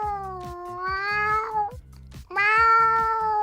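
Someone mimics a cat, giving two long, strained meows separated by a brief pause, loud and close with a nasal, whining tone.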